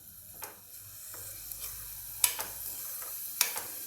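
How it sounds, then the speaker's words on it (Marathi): Onion and tomato masala sautés in a pan with a faint, quiet sizzle, broken by a few sharp scraping ticks from stirring. "आता आपण हे परतून घेऊ"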